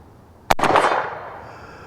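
A single sharp rifle shot from a Henry Big Boy Classic lever-action chambered in .44 Magnum, fired standing without support at a 50-yard target, cracks loudly and close, then trails into a rolling echo that fades over a second or more.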